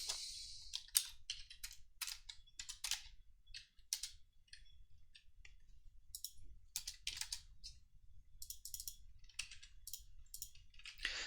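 Steady, rapid typing on a computer keyboard while writing code, with close, crisp key clicks in uneven bursts and short pauses, and no talking.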